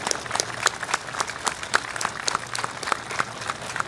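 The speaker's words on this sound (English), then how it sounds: "Round of applause, please." Steady crowd applause at a U.S. Navy change of command ceremony for the USS Tripoli, many hands clapping together in a sustained, fairly close wash with sharp individual claps standing out.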